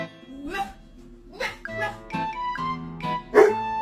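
A pet dog vocalizes indoors in a string of short whining yips and yowling barks, several separate bursts with brief pauses, fairly close and clear, the last one loudest.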